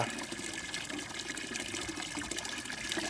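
Water being poured into a plastic bottle while mixing a garden solution, a steady continuous splashing and gurgling fill heard up close with no talk.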